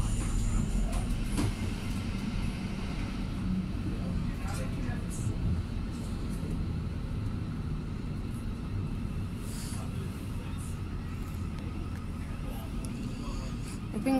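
A commuter train runs between Wimbledon Chase and Haydons Road, heard from inside as a steady low rumble of wheels on track with occasional clicks and rattles, continuous throughout.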